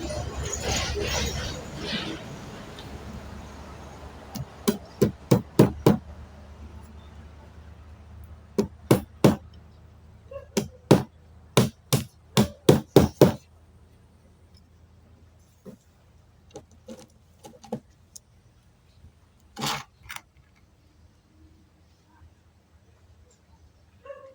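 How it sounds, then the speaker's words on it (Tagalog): Pliers used as a hammer pound nails into a bamboo stick frame for a Christmas parol, giving sharp close knocks in quick clusters of several blows, then sparser taps, with faint background murmur. "ang gamit natin na pampokpok ay plies"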